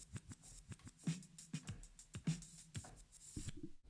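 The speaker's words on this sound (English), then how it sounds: "Lastly, reverse will reverse the audio for whatever key you selected." A reversed audio sample played back from the EXS sampler in Logic 9, heard as a series of uneven swelling hits and tones that build and cut off sharply, moderately loud and with no voice over it.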